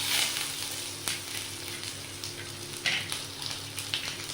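Chopped ginger and garlic sizzle gently in hot oil over low heat, with dried red chillies already in the pan, a soft crackling fry punctuated by a few sharper spits and clicks as pieces are stirred.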